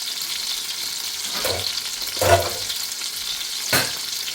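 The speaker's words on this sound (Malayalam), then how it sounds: "ഇവിടെ തക്കാളി വേവുന്നുണ്ട്." Tomatoes cooking in a pan for chutney give a steady soft sizzle, with a few louder stirring scrapes at intervals and no talking.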